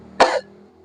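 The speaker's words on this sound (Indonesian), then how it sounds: "maaf ya batuk" A single sharp cough bursts out close to the microphone, brief and loud, followed by quiet.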